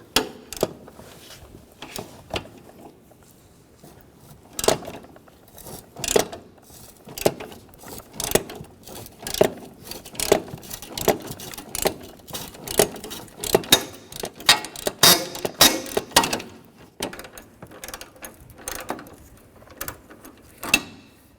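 A ratchet with a 13mm socket works loose the exhaust manifold bolts on a 2007-2013 Mini Cooper, giving repeated bursts of sharp clicking strokes up close, with pauses between sets.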